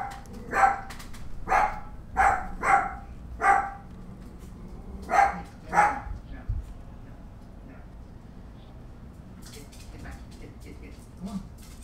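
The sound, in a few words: dogs barking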